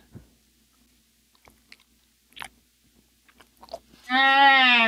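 Close, sparse wet clicks and smacks of a mouth chewing eggs, spaced irregularly and quiet, then a sudden loud, sustained nasal voiced hum at the end.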